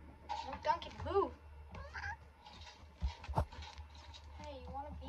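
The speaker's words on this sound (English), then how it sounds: "Hey, you want to be up here with me, Duncan, the cat" A cat meows several times near a person playing a game, with speech-like chatter mixed in and a couple of sharp clicks.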